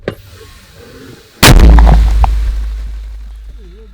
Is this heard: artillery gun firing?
yes